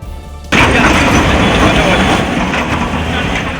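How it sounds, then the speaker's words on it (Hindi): Heavy machinery roars loud and steady after a sudden start, consistent with a bulldozer demolishing an illegal three-storey showroom with 16 shops on the Pilibhit bypass in Bareilly. "वहां बुलडोजर कार्रवाई का यह लगातार दूसरा दिन था"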